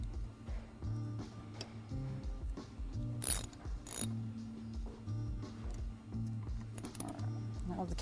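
A ratchet tightens the brake rotor bolts on a motorcycle during a Galfer wave rotor install, giving repeated clicking pawl strokes in short bursts close by while someone talks over it.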